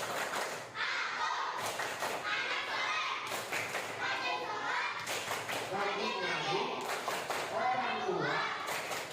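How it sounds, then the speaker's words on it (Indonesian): Schoolchildren clap the rhythmic 'tepuk anak soleh' chant, with repeated bursts of loud, close claps falling in a steady beat, mixed with the children's chanting voices throughout. "mari bersama kita tepuk anak soleh"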